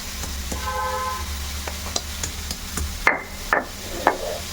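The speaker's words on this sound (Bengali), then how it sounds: "এখন এইগুলো সব একসঙ্গে আমি কিন্তু বেটে নেব।" Ginger, coriander, cumin and green chillies ground into a paste on a stone grinder: a few sharp scraping strikes near the end over a steady low kitchen hum, close and moderately loud.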